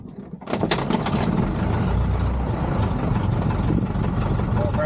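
A small airplane's propeller engine catches after being hand-propped and settles into a loud, steady, throbbing run. It starts abruptly after a brief quiet moment and stays close and continuous.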